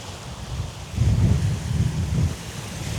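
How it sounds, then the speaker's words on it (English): Ocean waves breaking on a shore at a land-based fishing spot, a low rolling wash that swells in the middle, with wind rumbling across the microphone. "Wait until these waves go by"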